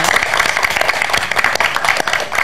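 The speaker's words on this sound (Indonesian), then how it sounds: "tepuk tangan yang luar biasa dong buat Prilly Latuconsina." Studio audience applause on an Indonesian TV talk show, a dense, steady wash of many hands clapping at close range, filling the whole moment without pause.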